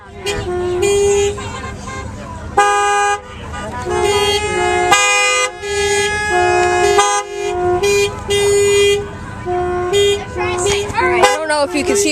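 Car horns honk over and over at a ghost rally, with long toots and short beeps overlapping loudly and near, a steady crowd of vehicles blaring almost without pause.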